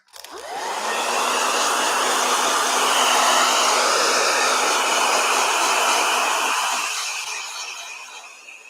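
A handheld blow dryer runs steadily for about seven seconds in an art workspace, a loud continuous whooshing drone used while acrylic painting, then cuts off and winds down near the end.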